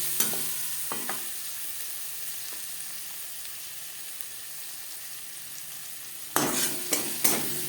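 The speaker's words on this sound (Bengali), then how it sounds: "কাঁচা গন্ধ যাওয়া পর্যন্ত নাড়াচাড়া করে নেব" Tomato and turmeric powder frying in a pan give a soft, steady sizzle, broken by a few sharp scraping stirs of a spoon near the start and again toward the end.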